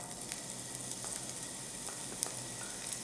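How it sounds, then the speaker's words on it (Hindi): Onions fry in hot refined oil with bay leaves for tawa paneer, producing a quiet, even sizzle with a few light stirring taps and one brief sharp click. "अच्छे से भून लेंगे प्याज को"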